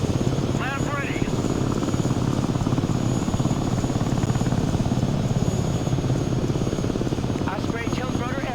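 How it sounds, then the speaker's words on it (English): Osprey tiltrotor aircraft in the video game Broken Arrow, a steady loud rotor and engine drone throughout with rhythmic blade chop, with a few faint voice calls heard over it. "Osprey tiltrotor aircraft here."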